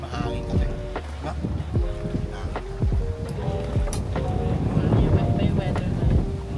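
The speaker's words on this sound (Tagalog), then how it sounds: "Kaya nga ito, mahangin." Gusty wind buffets the microphone over a low boat engine drone and sloshing water in rough, choppy seas off El Nido, Palawan, steady and close, with scattered knocks and tones throughout.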